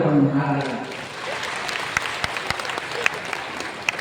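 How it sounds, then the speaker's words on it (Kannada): An audience at a Kannada humour and music show claps, a burst of applause that thins into scattered sharp claps, with a voice over the opening moments. "ನಿಮಗೆಲ್ಲ ಖುಷಿಯಾದ ಚಪ್ಪಾಳೆ"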